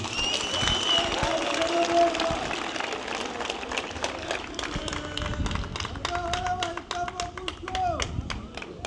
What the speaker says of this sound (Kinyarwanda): Nagira ngo mubampere amashyi tubashimire.